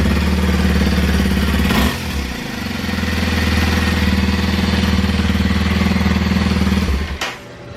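A 2021 Kawasaki 230 dual sport motorcycle idles close by with a steady, mildly clattery single-cylinder putter, briefly dipping and resettling before a sharp knock near the end.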